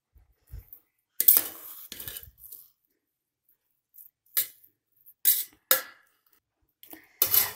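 Spoon clinks and scrapes against a pot or plate while kodo millet biryani is mixed with ghee and coriander leaves, in several short separate bursts with quiet gaps between them.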